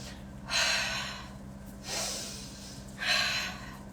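Three deep, breathy exhalations spaced about every second and a half, each a broad airy rush with no speech, made by a belly dancer breathing as she moves.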